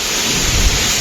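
Steady heavy rain hisses across everything, with a low rumble of thunder swelling near the middle of the second before fading back under the downpour.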